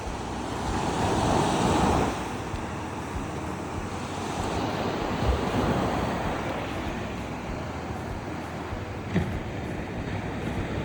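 Ocean surf rolls onto a beach in Zambales, a continuous broad wash of waves with gusty wind buffeting the microphone, swelling louder early on and then settling into a steady roar.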